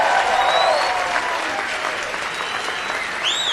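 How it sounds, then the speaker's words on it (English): Audience at a white coat ceremony clapping and cheering, a dense wash of applause with occasional shrill whistles and shouts rising above it. "if you want to yell out and cheer and clap and do fun stuff, please do"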